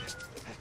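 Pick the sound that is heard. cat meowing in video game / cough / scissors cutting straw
cat meowing in video game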